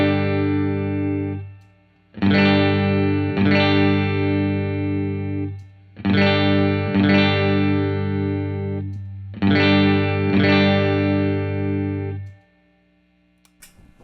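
Clean electric guitar through a Roland RE-201 Space Echo tape delay, playing four loud sustained chord phrases separated by brief gaps, each ringing with a chorus-like shimmer and fading into quiet at the end.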